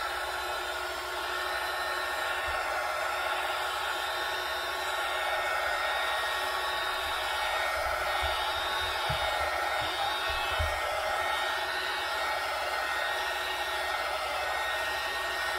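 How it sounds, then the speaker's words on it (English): A heat gun blows continuously over a freshly applied glitter coating, giving a steady, loud, close-up rushing whir that holds unchanged throughout, with no talk. "So I'm just going to take my heat gun and"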